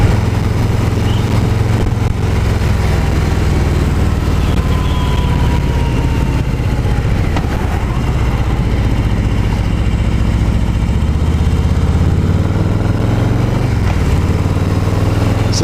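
A 2018 Harley-Davidson Low Rider with a Milwaukee-Eight 107 engine runs on the road, a loud continuous low rumble with gentle rises in revs and wind noise throughout.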